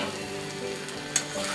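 Taro (kochu) pieces fry in a pan with a steady, close hiss of sizzling oil and a single brief clink partway through. No voices.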